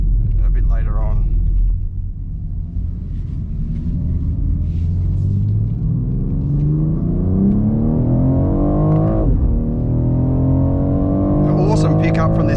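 A 2023 BMW X4 M Competition engine pulls hard on track, its loud rumbling note rising steadily through the revs before a brief dip at the gear change, then climbing again.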